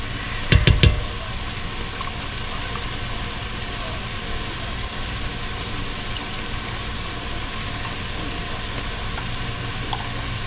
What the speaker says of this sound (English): we are going to add tomato paste